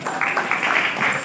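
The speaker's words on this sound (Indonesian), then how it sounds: "Berikan tepukan yang gemuruh kepada beliau" Audience applause for a teacher at a Kaamatan school festival, a steady wash of many hands clapping at moderate distance with no break across the short stretch.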